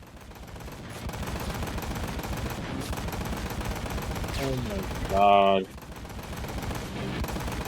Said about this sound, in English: I can't hear you over the gunfire that is suddenly way too loud